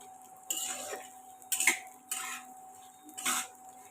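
Edible gum (gond) is roasted and stirred in a pan for sugar-free date laddoos. Four separate bursts of scraping and rattling sound close against a faint steady hum.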